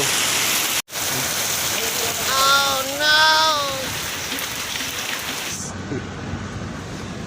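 Steady rain falls in a continuous loud hiss, with a brief voice and some tonal sounds over it before the rain noise thins out near the end.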